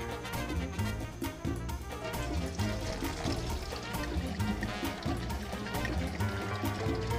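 Liquid mixture poured into a tray for a Halloween treat, a steady, soft gurgling stream that runs continuously and fairly quietly throughout.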